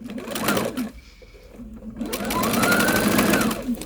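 Sewing machine stitching a quilt block border in a continuous circular pass, its steady mechanical whir running near and clear with a brief pause partway through.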